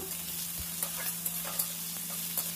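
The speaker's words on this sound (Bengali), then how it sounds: "এই কুচিয়ে রাখা পেঁয়াজটাকে আমি হালকা ব্রাউন করে প্রথমে ভেজে নেব।" Chopped onion sizzling in hot oil with whole cardamom and cloves, a soft steady fry with a few faint stirring scrapes and ticks, heard alone and fairly quiet.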